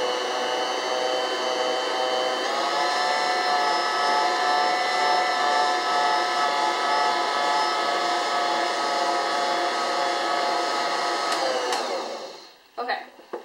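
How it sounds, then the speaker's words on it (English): A stand mixer kneads whole wheat bread dough with a steady, loud motor whine held throughout, then winds down and stops near the end. "once I knead it for about six or seven minutes with a mixer"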